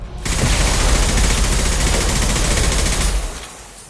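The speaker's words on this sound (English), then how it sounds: "Firing concussive shot." Concussive shot firing in Mass Effect 2, a loud dense burst of gunfire-like blasts filling about three seconds before tailing off, with no talking over it.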